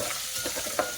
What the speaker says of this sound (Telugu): ఆయిల్ హీట్ అయ్యాక కరివేపాకు వేసుకోవాలి. అలాగే కొద్దిగా పసుపు కూడా వేసుకోవాలి.